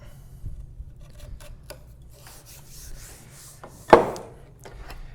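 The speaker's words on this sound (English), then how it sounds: "little V groove, a little trough to get our saw started in." A saw rasping a V groove into a wooden workbench: soft scattered scraping strokes, then one sharp louder rasp near the end, close and without talk.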